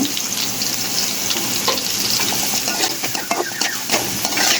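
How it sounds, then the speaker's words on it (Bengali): Chopped onions frying in a pan for a fish dish, a loud, dense, continuous close sizzle with occasional light clinks and stirring scrapes, no voices. "এই পেঁয়াজ কুচিগুলো দিয়ে দিব"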